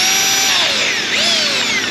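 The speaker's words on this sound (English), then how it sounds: "We're just gonna drill these rivets out." A power drill runs continuously at high speed, boring out rivets with its whining tone sweeping slightly up and down as the bit bites, loud and close with no talking.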